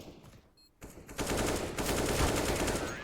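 Counter-Strike gunfire on Dust 2 in a competitive grand final match, a short quiet lull and then a sudden burst of rapid automatic shots that builds into sustained loud firing.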